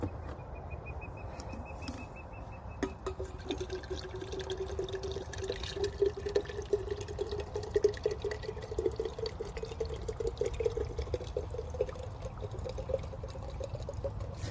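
Water pours into a bottle outdoors at a viewpoint in Oregon, a low gurgling stream that rises in pitch as the bottle fills, steady and close over soft background ambience.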